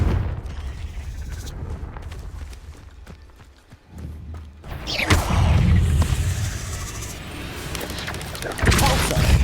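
A Confringo fire spell bursts in the game Hogwarts Legacy: rumbling crashes and thuds of combat, a brief lull, then a loud heavy explosive blast followed by a sustained roaring debris-filled wash and a final heavy hit.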